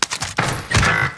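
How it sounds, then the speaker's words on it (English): Gunfire in the video game Warzone: a loud, close burst of rapid shots and impacts packed into about a second, dense and booming with no talk over it. "Taking fire!"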